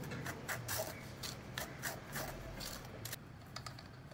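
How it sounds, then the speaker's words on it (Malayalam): Amritham nutrition powder sifted through a sieve for a cake, giving a steady soft rasping and rubbing with repeated light scraping strokes, close and fairly quiet, with no voices. "മുഴുവൻ അമൃതം പൊടിയും ചേർത്ത് ഇങ്ങനെ അരിച്ചെടുക്കണം."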